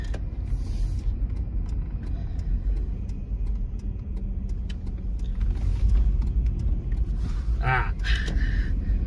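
A car driving along a rural county road, with steady loud road rumble and occasional creaks from the cabin throughout, plus a brief higher mechanical whine near the end.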